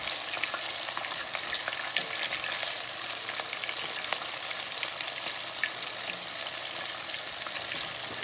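Grouper and red snapper fillets frying in hot oil, a steady dense sizzle with fine crackling pops running unbroken throughout, close and even in level, with no talk.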